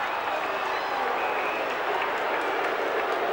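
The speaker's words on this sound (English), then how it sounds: "I don't know what the crowd's yelling about" Steady roar of a large stadium crowd yelling at a 1987 Australian football match between Sydney and Fitzroy, a dense broadband wash that holds loud and unbroken throughout.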